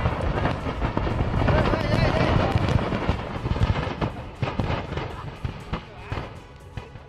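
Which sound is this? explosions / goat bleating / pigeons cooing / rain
explosions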